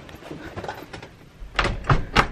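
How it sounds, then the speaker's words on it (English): A door closing, likely at a concert venue: a few sharp thuds and knocks toward the end, close and fairly loud, after quieter rustling. "The door closed."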